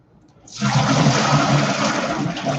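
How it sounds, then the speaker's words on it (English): Water is dumped from a bowl of lettuce into a kitchen sink, a sudden loud rushing pour that starts after a moment of quiet and keeps going steadily to the end. "I'm just going to shake this out over the sink, and then we will dump out the water"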